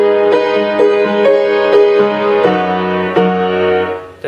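Solo piano plays the instrumental filler of a song in its Abbey Road version: a steady sequence of clear, close struck notes and chords, each ringing briefly over sustained low tones.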